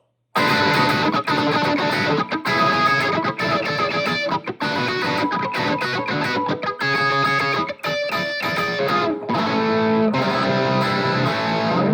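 A Fender Squier 70's Classic Vibe Thinline Telecaster with hot pickups, played through a Spark 40 amp with heavy distortion, plays loud, dense metal chords and riffs with brief gaps between phrases, no voices.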